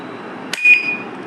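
An alarm padlock gives a sharp click followed by a brief, high electronic beep that fades, over a low steady hum.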